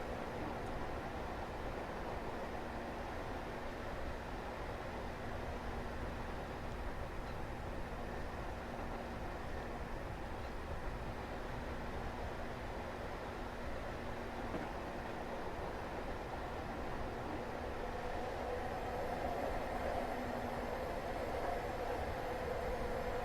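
A passing train rushes by the other way alongside a Class 159 diesel unit in Train Simulator 2015 on the Exeter St Davids to Newton Abbot line, its steady rumble brightening toward the end over constant cab noise.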